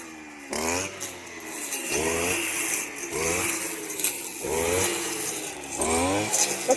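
A motorized grass-cutting machine clearing wild grass and overgrown plants sweeps in a steady rhythm, its engine rising and falling about every second, loud and close with no talk.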